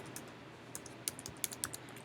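Computer keyboard being typed on, a quick irregular run of light clicking keystrokes, close and fairly quiet, with no talking.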